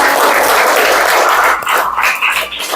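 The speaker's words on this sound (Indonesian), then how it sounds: "Beri tepuk tangannya teman-teman." Schoolchildren in a classroom clap together during a religious studies lesson, a loud, busy patter of small hands that thins out toward the end, with no clear talking.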